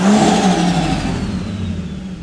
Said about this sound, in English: It sounds like a race car. It sounds way better. It's nice and raspy